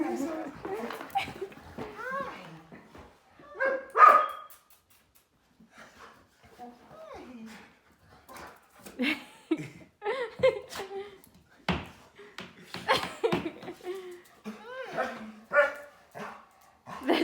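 A dog barks and yips in short bursts near the microphone, with people talking and a voice mixed in between.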